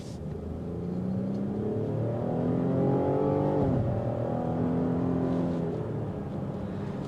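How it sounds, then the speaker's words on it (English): A 2022 Cadillac XT6 three-row SUV with a V6 engine accelerating under throttle, a steady loud rising engine note with a smooth powerful tone heard from inside the cabin, with no talk. "The nice thing is you hear a V6 engine"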